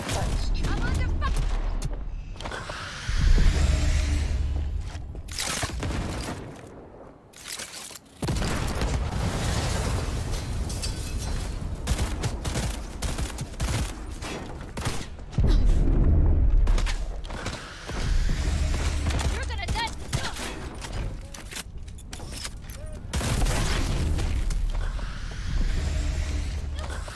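Rapid gunfire and explosions in a shooter game, with repeated sharp bursts and booming hits over mechanical clatter, while a talking gun's voice speaks intermittently.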